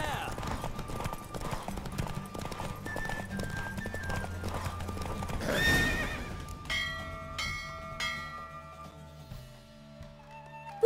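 Quick, rhythmic hoofbeats of a galloping horse in The Witcher 3: Wild Hunt, with a loud whinny midway, followed by ringing bell-like tones and music.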